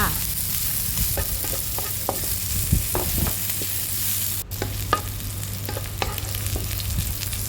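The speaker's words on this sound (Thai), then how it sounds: "ต่อไปเราก็จะ เอา พริกซอยกับกระเทียมสับใส่ลงไปผัดให้หอมๆค่ะ" Sliced chili and minced garlic stir-fry in a little oil for a Thai pork dish: a constant close sizzle broken by sharp spatula clicks and scrapes against the pan, with no talking.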